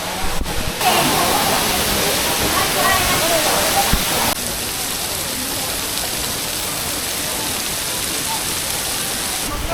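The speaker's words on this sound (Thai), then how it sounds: "นี่คือน้ำตก" Loud waterfall at Furong town in China roars as a steady, dense rush of falling water that fills the whole scene, with voices briefly heard under it.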